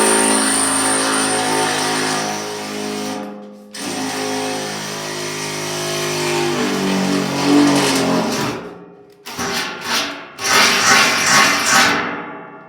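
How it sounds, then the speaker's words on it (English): A handheld drill bores a hole through the metal baffle of a supply hopper at a marked center-punch point: a steady whining motor hum, briefly stopping and restarting, then choppier bursts as the bit works through. "once you've got your hole marked, you take your drill"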